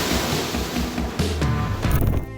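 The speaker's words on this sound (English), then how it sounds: "The waves are so high that they flood the deck of an enormous ship." Towering ocean waves crash over the deck of an enormous ship in strong wind, a loud roaring wash of surf and gusts with heavy surges about a second apart.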